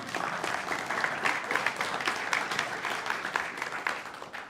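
Steady, moderately loud clapping from an audience at a guide dog graduation ceremony fills the whole stretch with dense, continuous applause.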